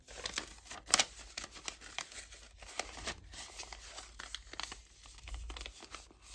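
Paper pages of a mini summer coloring book being folded, soft faint crinkling and rustling with a brief sharper crackle near the start.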